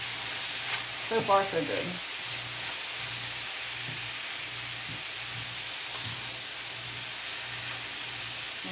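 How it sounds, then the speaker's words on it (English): Julienned zucchini noodles sizzle in olive oil in a pan, a steady close hiss with soft stirring scrapes and a low background hum, while someone speaks briefly early on. "Add the zucchini noodles. Stirring constantly for 2 minutes until wilted."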